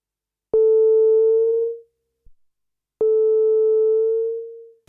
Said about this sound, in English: Let's just drop the emphasis back until it stops self-oscillating.